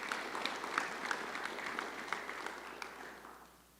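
High school class day audience clapping, a steady patter of many hands at moderate volume that gradually fades out toward the end.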